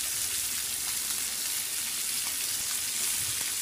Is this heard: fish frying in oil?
yes